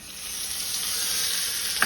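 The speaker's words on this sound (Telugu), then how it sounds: "దీంట్లో ఇక్కడ పోపు పెట్టానండి, జీలకర్ర, ఆవాలు, మిరపకాయలు, మినప్పప్పు. ఇవి పోపు వేగిపోయింది." Cumin, mustard seeds, dried chillies and urad dal sizzle in hot oil as a tempering for mint chutney, a dense, steady crackling hiss close by, with a faint stir near the end and no speech.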